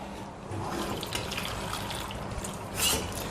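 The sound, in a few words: water poured into cooking pot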